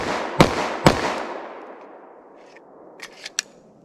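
A 10mm Glock conversion pistol fires Buffalo Bore ammunition: two sharp, loud shots about half a second apart, each ringing out briefly, then fainter clicks and clatter of handling afterward.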